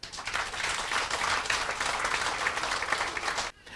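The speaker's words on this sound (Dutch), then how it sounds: "Eigenlijk wil ik een applaus voor die mensen." Sustained applause from a gathered crowd honouring water supply workers at an outdoor event in Boskamp, steady dense clapping that holds for several seconds and then cuts off.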